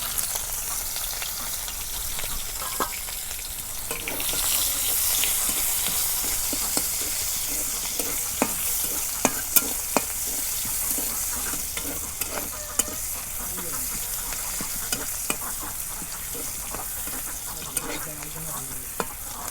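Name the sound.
cabbage and chopped onion frying and stirred in oil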